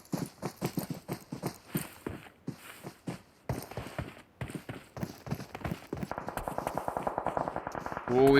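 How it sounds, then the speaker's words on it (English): Gunfire in a PUBG Mobile match: a long run of sharp single shots pops at an irregular, quick rhythm, moderately distant, then gives way to denser rapid bursts and a louder thud at the end, under quiet commentary. "we've got his shots going off"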